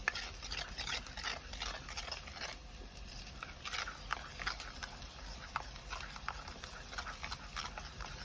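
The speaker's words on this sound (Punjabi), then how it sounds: "ਹੁਣ ਇਹਨਾਂ ਨੂੰ ਸਾਰੇ ਮਸਾਲਿਆਂ ਨੂੰ ਆਪਾਂ ਚੰਗੀ ਤਰ੍ਹਾਂ ਮਿਕਸ ਕਰ ਲੈਨੇ" Spices are stirred into turnip in a pan, giving faint, repeated scraping and tapping strokes over a low sizzling background, with no voices.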